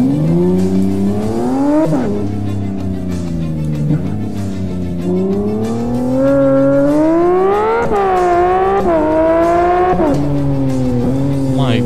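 A Lamborghini in the racing game Live for Speed revs hard through repeated gear changes, its engine pitch climbing and dropping every couple of seconds, with occasional tire squeal. It is loud and continuous, with no voices over it.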